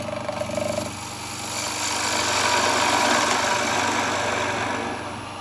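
A spindle gouge cuts into a turning wooden bowl on a lathe, a steady droning hum from the machine with a broad rasping cut that rises in the middle and then eases off.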